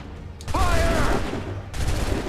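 A musket volley from a line of soldiers in Assassin's Creed 3 crackles as a loud ragged burst with a whistling tone, followed moments later by a second burst.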